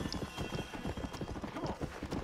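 Horse hooves clip-clop in a steady, quick rhythm while riding through the game Red Dead Redemption, fairly close and continuous, with a brief whinny and faint game ambience underneath.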